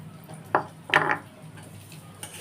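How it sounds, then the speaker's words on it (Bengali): Foxtail millet rice stirred in a pan of ghee with cashews and raisins gives two short scraping, clattering bursts of spoon against pan, close and fairly loud over a quiet background hum. "কাউন চালটা দিয়ে একটু নেড়ে নেবো।"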